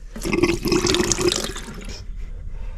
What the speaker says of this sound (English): Right, let's fill up with water.